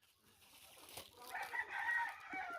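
Grandmother's pet chickens cluck and a rooster crows, near and fairly faint, the crow rising in the second half over light rustling.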